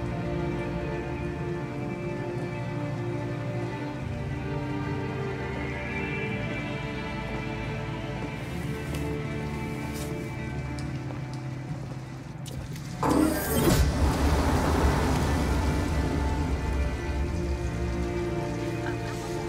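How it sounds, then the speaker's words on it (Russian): A heavy rain downpour outside in the game Detroit: Become Human, a steady dense hiss of falling water, with a louder surge of splashing and rushing near the end. "на улице ливень"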